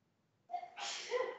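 A single sharp sneeze, a quick intake of breath followed by a bright, breathy burst, fairly close and clear against a quiet background.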